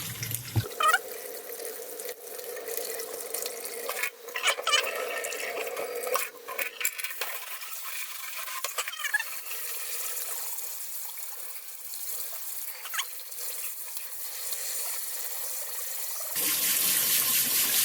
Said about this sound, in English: Now all I'm going to do is just keep running the water on it until it runs clear.